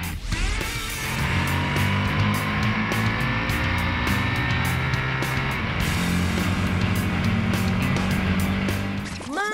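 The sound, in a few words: Ducati 959 Panigale motorcycle accelerating at Interlagos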